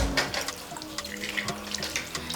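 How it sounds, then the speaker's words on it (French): A small jam jar rinsed under a running tap, with a steady stream of water splashing into a sink. "On va simplement rincer."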